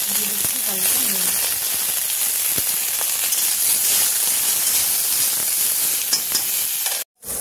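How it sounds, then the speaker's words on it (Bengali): Cauliflower florets fry with a pinch of salt in leftover oil in a wok, giving a constant loud sizzle and hiss with occasional stirring scrapes and a brief voice early on. "কড়াইয়ের মধ্যে দিয়ে দিচ্ছি ফুলকপি, আর আমি তেল দিলাম না, এই তেলের মধ্যে ভাজা হয়ে যাবে।"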